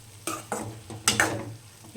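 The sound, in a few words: tomato and onion frying in pan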